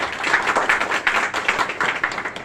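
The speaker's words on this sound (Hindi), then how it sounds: "तो अपने इस वैल्यूएबल प्रोफेशन के लिए एक जोरदार तालियां बजाइए" Audience in a hall gives a round of loud applause, dense overlapping hand claps sustained steadily throughout with no voices over them.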